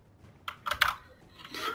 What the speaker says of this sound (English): I'm smashing my face on the keyboard.